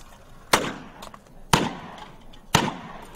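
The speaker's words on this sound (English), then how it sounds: "I'm drawing the gun, shooting, and I'm shooting at different cans, different heights, different angles, different levels" Three sharp handgun shots, about one second apart, fired from the hip at cans during fast point shooting. They are loud and close, and each one is followed by a short ringing decay.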